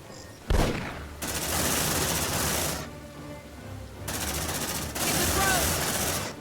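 Deployed sentry guns firing at an alien swarm in Aliens: Dark Descent, with long sustained bursts of rapid automatic fire broken by short pauses, loud and close over a game soundscape.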